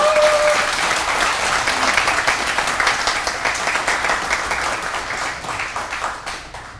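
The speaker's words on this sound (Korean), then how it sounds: "여러분 큰 박수로 맞아주십시오." A crowd at a Korean political campaign event applauds to welcome candidate Seo Chung-won, a loud, dense burst of clapping that holds steady and then slowly tapers toward the end.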